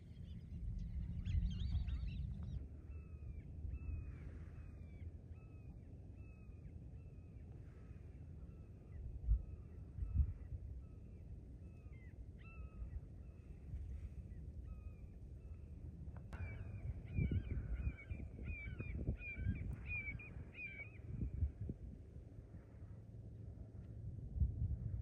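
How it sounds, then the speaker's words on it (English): Wetland birds call along the La Chua Trail in Gainesville, Florida: a repeated series of honking, goose-like calls at moderate distance over a low rumbling background. "Lots more birds, I think,"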